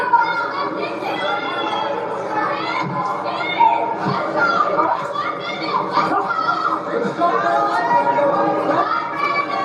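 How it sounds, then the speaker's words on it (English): A crowd at a fight event, including Canadian fans, keeps up a steady roar of chatter, shouts and cheers for the whole stretch, with a few louder yells rising out of the din. "And there's some Canadians in the crowd making some noise now."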